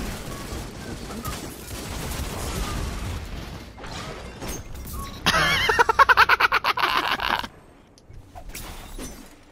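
A rapid rifle burst from the video game Destiny, a dense string of evenly spaced shots lasting about two seconds, loud and close over ongoing game sounds.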